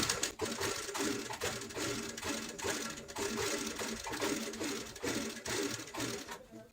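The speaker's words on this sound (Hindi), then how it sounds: "इसके हमें सेंटर में ऐसी सिलाई लगानी होती है और इस तरीके से फ्रिल बनानी है" A sewing machine stitches down the center of a fabric strip to gather a pillow frill, running steadily and rapidly at close range with a quick, even mechanical patter.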